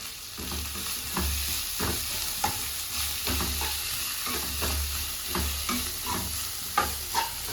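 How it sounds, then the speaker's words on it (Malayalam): Onion, ginger and chili fry in oil in a pan, a constant close sizzle broken by regular scraping and tapping as a spoon stirs the mixture. "എണ്ണ വെച്ച് സവാള ഇട്ട് ഇഞ്ചി ഇട്ട് മുളകിട്ട്."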